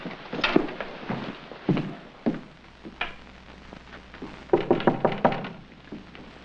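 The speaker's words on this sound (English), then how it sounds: "Who is it? It's Ben, Andy. Oh, come on in, Ben. The door's not locked" Someone knocks on a wooden door from outside, a series of hollow raps. The knocks come in irregular groups, with a quicker cluster of four or five raps near the end, moderately close against a quiet room.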